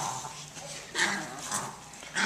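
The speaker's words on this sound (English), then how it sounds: "Oh damn, it's a dog fight." Several dogs fighting in a pen, with snarling, yips and whimpers rising in bursts over about two seconds, fairly close and moderately loud.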